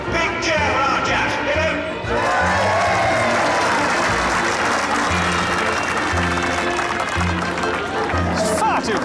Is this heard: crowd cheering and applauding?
yes